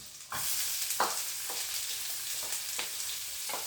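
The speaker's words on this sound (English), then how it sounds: "now I'm gonna add the onion." Onion fries in butter for ground beef tacos, giving a steady bright sizzle close by, broken by a few soft scrapes of stirring.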